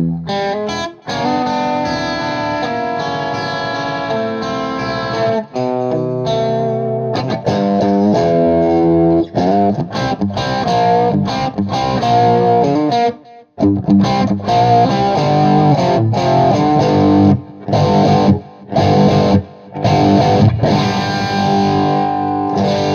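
Electric guitar played through a Metropoulos custom amp, distorted high-gain riffs and chords ringing loudly with sustained notes, broken by a few short silent pauses and choppy stops, no talking.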